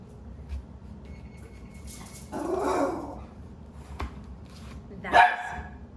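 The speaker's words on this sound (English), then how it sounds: "That is my dog." A dog barks a couple of times at moderate distance, with a brief whine in between, over quiet room noise.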